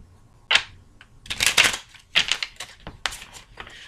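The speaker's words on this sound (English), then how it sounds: "Let's shuffle this because they're being all weird right now." Papery riffling and crisp card slaps in several bursts, fairly close and moderately loud, with no talking.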